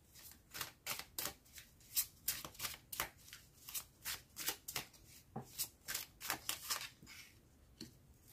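Tarot cards being shuffled for a reading, a steady run of close, crisp riffling bursts repeating every half second or so, loud and clear with no talking.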